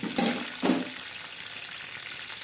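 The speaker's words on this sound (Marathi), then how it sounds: "आता हे पोहे भाजत आहे" Flattened rice (poha) roasting in a hot pan, a steady close hiss with two louder scraping bursts near the start as it is stirred.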